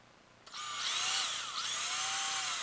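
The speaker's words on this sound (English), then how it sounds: "we're going to use our 7/64 bit. And we'll go ahead and drill all those holes here" A power drill with a 7/64 bit starts up after a short quiet moment and runs steadily, its whine shifting in pitch as the bit bores holes in a plunger tube.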